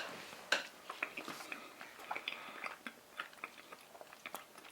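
Plastic spoon scraping and stirring thick cheesy macaroni in a Kraft Cheetos mac and cheese cup, a close run of small clicks, taps and sticky squelches with no talking.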